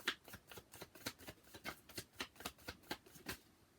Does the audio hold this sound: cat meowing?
no